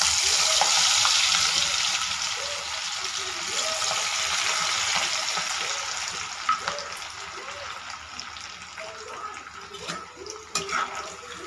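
Elephant foot yam chips deep-fry in hot oil with a loud, dense bubbling hiss that gradually eases, joined later by a few sharp clinks and scrapes.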